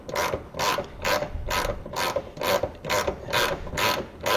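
A 19 mm wrench ratchets while loosening a bolt on a Citroën DS, about nine evenly spaced clicking strokes in steady rhythm, close and fairly loud with no talking.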